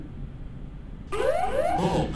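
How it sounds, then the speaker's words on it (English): A ground proximity warning alert goes off in an airliner cockpit in Flight Simulator X. It cuts in abruptly and loudly over a faint background hum and keeps sounding for about a second. "GPWS, I can hear you."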